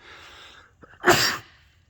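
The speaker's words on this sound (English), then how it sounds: "I'm going to sneeze again." A single sneeze, close and sharp: a quick intake of breath followed by one explosive burst, with a faint murmur just before.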